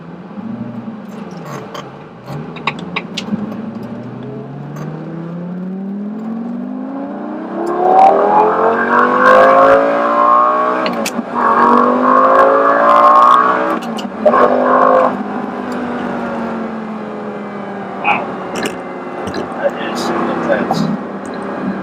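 The engine of a car, either a Lamborghini or a turbo car, rises in pitch as it accelerates hard through a long first gear on the open road, screaming loudly from close inside the cabin while a person talks over it.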